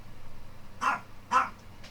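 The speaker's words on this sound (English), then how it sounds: "my dog's calling attention to me" Pet dog Knight barks twice in a row, loud and close indoors, with a fainter third yip trailing after over a quiet room hum.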